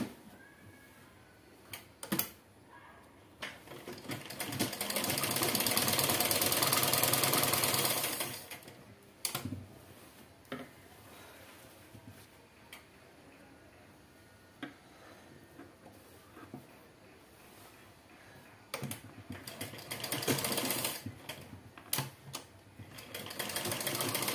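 A sewing machine stitches the hem of a four-panel petticoat, running in a few sustained bursts of rapid needle clatter separated by quieter pauses with clicks and handling of fabric, close and fairly quiet.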